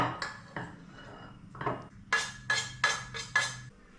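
Cooked rice for Indonesian nasi goreng being spooned into a bowl, a string of metal-on-ceramic scrapes and knocks, the last five coming as sharp evenly spaced clinks, close and clear with no talking.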